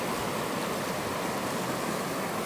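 Waterfall in the Lake District pouring into a pool, a dense, continuous rushing roar heard close and loud with no voices.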